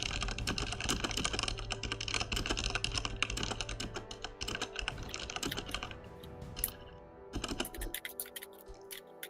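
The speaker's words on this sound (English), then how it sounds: "I'm just typing up something here so people know where we're at" Typing on a computer keyboard, a steady, close run of rapid key clicks that slows and thins toward the end with a few scattered final taps.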